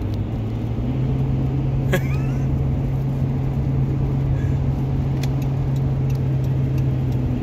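Car driving along a snowy winter road in Canada while overtaking, heard from inside as a steady loud low engine and road rumble with one brief click partway through.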